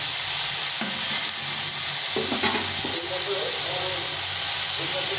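Loud steady sizzle of flat beans and turmeric frying in a pan, with scraping and clinking as it is stirred.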